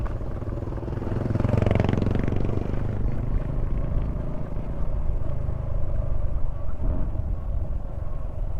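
Motorcycles ride past on a road in La Castellana, Negros Occidental, their engines rumbling loudly and steadily up close, with a brief louder swell of passing traffic early on.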